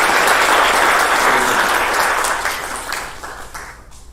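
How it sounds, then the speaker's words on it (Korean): An audience applauds at a hospital director's inauguration ceremony, a full, sustained wash of clapping from a large crowd that gradually thins and fades toward the end. "이분들을 위해서 큰 박수 부탁드립니다."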